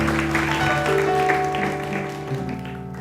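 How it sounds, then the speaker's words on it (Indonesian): An audience applauds steadily over a sustained musical tone, the clapping moderately loud and even before fading slightly. "Tepuk tangan."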